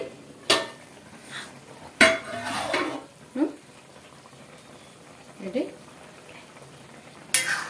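Chicken curry with little oil is stirred in a pan, with sharp spoon knocks against the metal, scraping and a soft simmering bubble under quiet talk.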